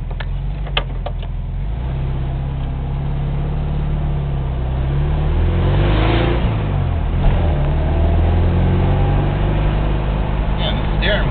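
A 1969 Volkswagen Beetle driving on a road test, its steady low engine drone and road rumble continuous from inside the car, with people talking over it throughout.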